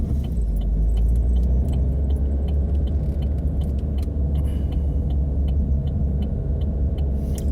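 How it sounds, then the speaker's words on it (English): A car driving around a roundabout on a wet day in La Mata, Spain, gives a steady, loud interior road rumble with faint jingling rattles throughout, and no talk. "I'm going to go round the roundabout and back around again"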